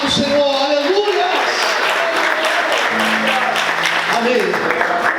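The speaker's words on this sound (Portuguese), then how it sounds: "Aplauda o Senhor, aleluia." Dense, steady applause from a large church congregation fills the space, with voices calling out over it.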